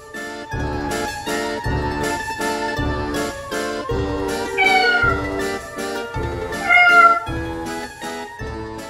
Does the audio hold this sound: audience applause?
no